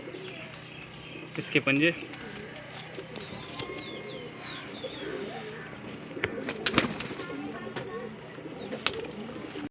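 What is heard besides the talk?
highflyer pigeons cooing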